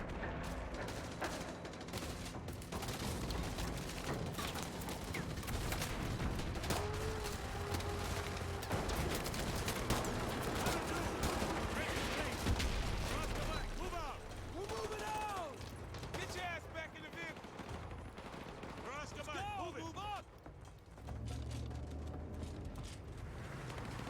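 Video game gunfire crackles in dense bursts and volleys of shots, mixed with mechanical clatter throughout, while a player talks over the action.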